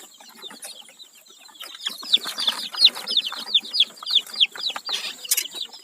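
Healthy joper chickens and young chicks in a small coop cluck in a busy series of short, close calls that grow louder and denser, with no talk.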